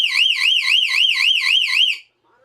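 An electronic vehicle alarm siren on a bench test wails loudly in a fast rising-and-falling warble for about two seconds, then cuts off abruptly.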